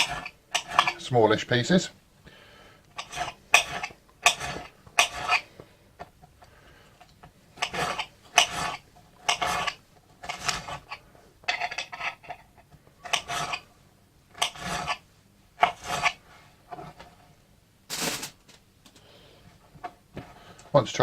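A knife chopping vegetables widthways into smallish pieces for couscous, in separate bursts of crisp repeated taps on a board, with a voice talking in between.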